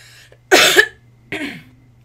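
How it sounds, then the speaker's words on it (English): Two sharp, close coughs from a man with a cough, the first harsher and longer, the second shorter, separated by a brief pause. "Sorry, I've got a bit of a cough today."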